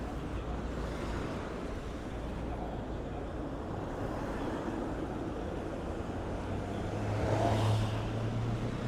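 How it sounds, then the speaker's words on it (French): Night street traffic in Shinjuku, Tokyo: a steady roar of passing cars with a louder vehicle swelling near the end, continuous and fairly close, with no clear talk. "Ces voitures qui passent à bloc."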